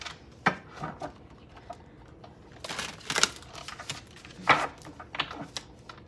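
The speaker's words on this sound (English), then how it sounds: "It's actually a really smooth shuffle." A deck of tarot cards is shuffled up close, soft irregular riffles and flicks with a few sharper snaps of cards, quiet between bursts.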